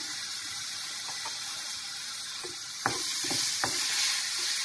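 Grated amla fries in a hot tempering with a steady, loud hiss, while a few soft scrapes and knocks of stirring rise over the sizzle.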